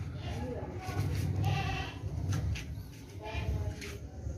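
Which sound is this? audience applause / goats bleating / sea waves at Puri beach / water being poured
goats bleating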